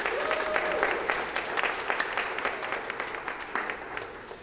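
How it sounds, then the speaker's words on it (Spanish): A congregation at a church service applauds the choir, a sustained patter of clapping hands at moderate distance that softens slightly toward the end. "siempre pido un gran aplauso para voces de alabanza"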